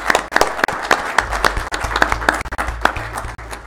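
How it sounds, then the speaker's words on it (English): Brief applause in a county commission meeting room, a modest group clapping with distinct, fairly loud individual claps at an uneven rhythm. "Let's very give her a round of applause"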